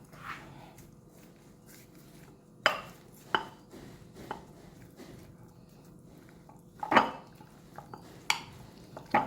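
Shark fish pieces are mixed by hand with masala and curry leaves in a bowl, with a few sharp clinks and scrapes of a utensil against the dish over a quiet kitchen background.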